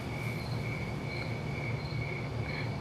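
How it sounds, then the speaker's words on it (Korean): Crickets and forest insects chirping in a steady, continuous shrill drone with repeating high pulses, loud and close over a dense low background hum, no voices. "벌레 소리. 이게 숲에서 나는 약간 귀뚜라미 소리 같은 느낌?"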